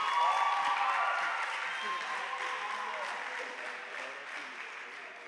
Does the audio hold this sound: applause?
yes